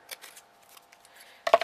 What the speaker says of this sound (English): just simply cut the V out